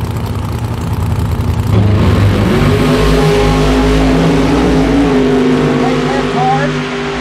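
Funny car drag racers at Keystone Raceway Park's Funny Car Nationals idle and rumble near the start of a quarter-mile run, engines growling loudly with rising revs, and an announcer's voice is mixed in.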